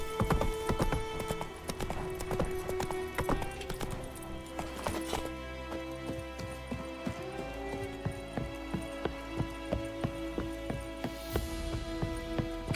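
A horse's hooves clip-clop steadily in The Witcher 3, a fast regular galloping rhythm that grows more even toward the end, set against layered game music and ambience.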